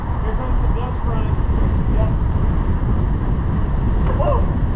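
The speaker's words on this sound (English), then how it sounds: "Here comes the gust front." Strong gusty wind from a gust front ahead of a hailstorm in Gainesville, Texas roars steadily and loudly against the microphone, a dense low rush with faint voices underneath.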